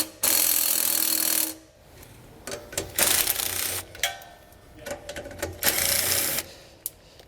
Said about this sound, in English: now we can take a 15mm socket and remove the 5 bolts that are holding our braking assembly to the axle